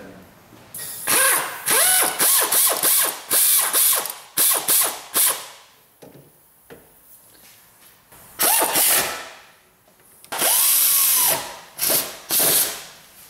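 Power tool (impact-style drill) running down new wheel hub bearing bolts on a 2004 Pontiac, loud repeated ratcheting bursts with short pauses between each bolt, close up and without talk.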